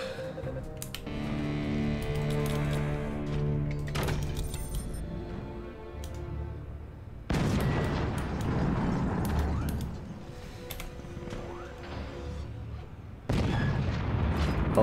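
Artillery firing in the siege game Forts, with several loud booming blasts against a steady mechanical background and sharp onsets near the middle and the end.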